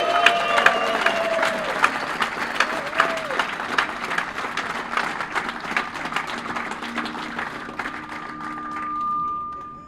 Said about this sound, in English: So let's give a big round of applause for Manchester.